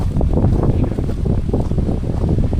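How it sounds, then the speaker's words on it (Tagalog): Strong wind roars and buffets the microphone in a steady, dense rumble throughout on Bulalacao island, Oriental Mindoro, with no voices. "Lakas ng hangin."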